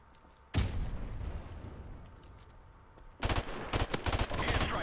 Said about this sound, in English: there's our airstrike right there